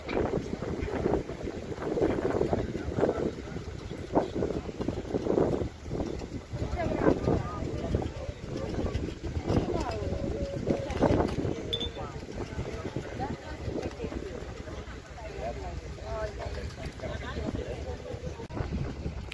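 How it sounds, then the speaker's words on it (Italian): Strong seaside wind at Corralejo on Fuerteventura buffets the microphone in a constant, rough rumble with gusty bursts throughout, loud and close, with no clear voices over it. "il vento è tanto"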